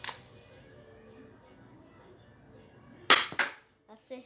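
Airsoft gun fired at a target: after a quiet stretch, one sharp loud pop, then a few quick clatters and a fainter follow-up impact near the end.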